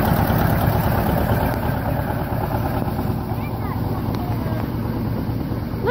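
A tractor with a 3-point mower drives along, its engine giving a steady, loud low rumble with harmonic drone throughout, plus wind buffeting the microphone and a voice talking over it.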